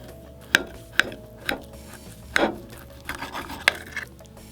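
A knife slices through a seared, sous-vide-cooked steak on a cutting board, making a handful of sharp, close taps and scrapes spaced about half a second apart, with no talking.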